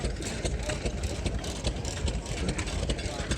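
A 1907 Seeger Engine Works 3 horsepower stationary engine runs with a steady, rhythmic chugging at an outdoor engine show. Crowd murmur and voices mix in around it.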